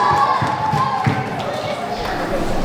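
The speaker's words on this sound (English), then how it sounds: "Let's give him a round of applause" A short burst of clapping and cheering from parents and children at a school book fair, with scattered thumps and shouts in a lively room.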